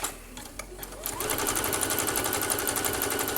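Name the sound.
sewing machine stitching zigzag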